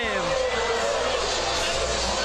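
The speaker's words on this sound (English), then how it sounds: "And just listen to this crowd." A stadium crowd at a Georgia Tech vs. Florida State college soccer match keeps up a loud, sustained roar of cheering and taunting, with a commentator talking over it.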